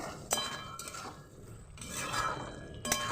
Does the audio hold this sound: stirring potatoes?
yes